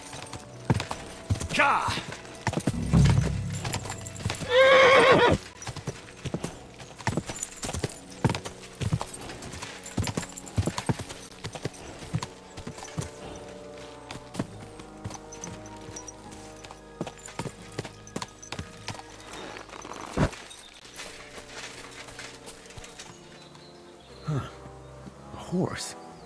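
A horse's hooves clip-clop in the woods in the video game Kingdom Come Deliverance 2, as scattered, irregular clops under game music and ambience, with a brief loud burst early and a short spoken exclamation.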